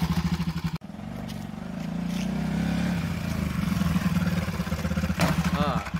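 Bajaj NS200 motorcycle performing a basic stoppie: a steady, close engine drone with a brief cut near the start, then a fairly loud hum that rises and falls as the bike moves and brakes.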